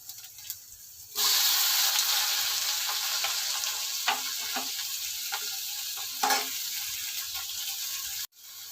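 Chopped tomatoes hitting a hot pan and frying, a sudden loud sizzle that settles into a steady crackling hiss with occasional stirring clinks, close by and continuous for several seconds.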